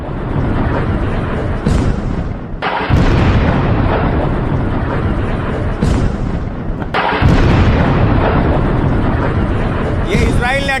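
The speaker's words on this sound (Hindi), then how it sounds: "ये इजराइल ने अटैक किया लेबनान में, वही धमाके सुन रहे हैं आप" Heavy booming explosions from Israeli attacks in Lebanon, several deep blasts in sequence with rumbling echoes, loud and continuous over a noisy background.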